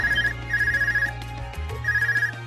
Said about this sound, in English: Is that your Argus ringing?